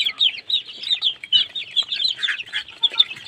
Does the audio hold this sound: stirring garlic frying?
no